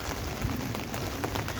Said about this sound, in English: As you can see and hear, I think it is raining.